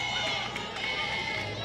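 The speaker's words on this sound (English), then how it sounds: "And still hearing it from the crowd in Kingsport" Softball crowd at a college tournament game in Kingsport murmuring and calling out in reaction to an umpire's call, a steady distant hum of voices with no clear cheer.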